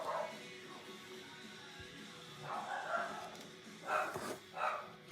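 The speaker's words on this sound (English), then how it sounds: "God, them dogs." Dogs bark faintly in the background, a few separate barks and yips spread across the clip, heard over quiet room noise.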